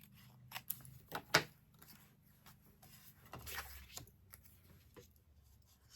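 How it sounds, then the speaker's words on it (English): Scissors fussy-cut around a paper card element, with several quiet, close snips in irregular bursts and soft paper rustling between them. "Just going to fussy cut around this one."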